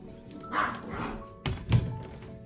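Dogs at home bark a few times at close range, with short sharp yelps and thumps among quiet room noise.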